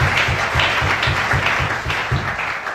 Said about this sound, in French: Acclame bien, s'il te plaît.